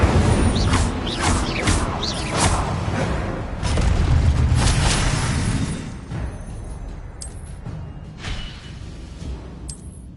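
A burst of roaring, whooshing magic rushes out as the Incendio fire spell goes off in Hogwarts Legacy, loud and dense for several seconds before settling into rumbling mechanical clanks.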